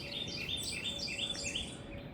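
Birds sing in a garden in the early morning, with repeated bright chirps and trills over a soft, steady background, faint and distant, with no voices.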